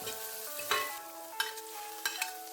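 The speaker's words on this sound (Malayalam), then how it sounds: "ഇനി നമ്മുടെ ആ സവോള ചെറുതായിട്ട് അരിഞ്ഞത് കൂടി ചേർത്ത് ഒന്ന് നന്നായിട്ട് വഴറ്റിയെടുക്കണം" Green chillies and finely chopped onion sauté in a pan for corn uppuma, a quiet, steady sizzle broken by a few soft stirring scrapes close by, with no talking.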